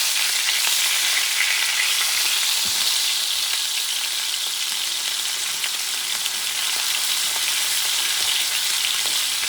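A ribeye steak frying in a pan, a loud continuous sizzle and spatter close by with faint crackles, steady throughout and without talk.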